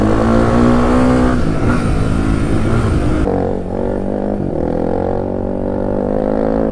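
A Suzuki DR 350 enduro motorcycle engine revs hard with a loud rising whine, then drops to a lower, steady rumbling idle partway through, close by and alone.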